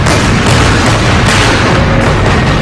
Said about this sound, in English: About that time, the artillery barrage started.